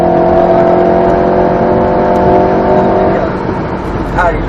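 An Alpine A110 S sports car accelerates on the Grand Sambuc race circuit, a loud, steady engine drone that fades slightly near the end as a voice briefly speaks.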